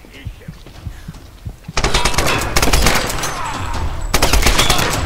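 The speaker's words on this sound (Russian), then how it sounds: "Так это автомат." Gameplay from Tomb Raider (2013): after a stretch of quieter thuds, sustained machine-gun fire erupts, loud and continuous for several seconds, pausing briefly before another burst.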